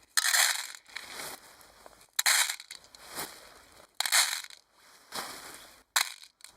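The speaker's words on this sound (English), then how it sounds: "Now I've got these baking beads." Ceramic baking beads are poured and shaken into a metal mess tin in several separate bursts, giving a loud, close, crunchy rattling rush that starts and stops roughly every second, with no talk.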